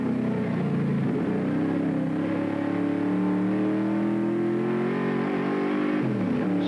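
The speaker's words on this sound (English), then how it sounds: "The deep-throated rumble of the big Falcon, contrasting with a high-pitched whine of the Mazda RX-7s." A Ford Falcon race car's engine rumbles deep and loud at Amaroo Park during a 1983 Amscar Series race, holding a steady drone that slowly climbs in pitch, then dips briefly near the end.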